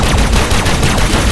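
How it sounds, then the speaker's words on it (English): Rapid, relentless weapon fire in the Warframe video game during a fight with robot MOA enemies, loud and dense automatic shots with no pause across the short stretch. "The weapons are really stupid sounding"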